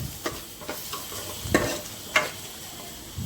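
Tomatoes and salt are stirred in a pan for chicken handi, a soft sizzle under a few distinct spoon scrapes and knocks against the pan.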